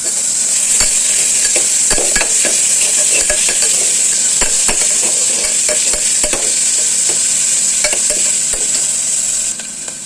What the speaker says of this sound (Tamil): எல்லாமே போட்டு வறுத்து வச்சுக்கலாங்க. நல்லா வறுபடுத்தும்.